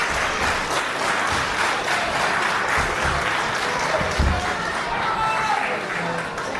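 A wrestling crowd applauds and cheers steadily through the whole stretch, a dense, loud wash of clapping with voices mixed in.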